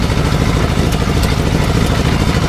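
An Ursus C-325 tractor engine idles close by with a steady, loud, rapid knocking beat, heard alone without talk.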